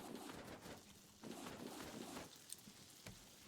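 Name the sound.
birds cooing in video game Raft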